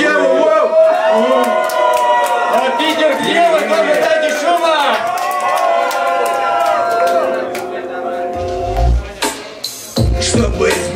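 A dense crowd at a rap battle shouts, whoops and cheers loudly and continuously, many voices overlapping up close, before thumping bass hits break in near the end.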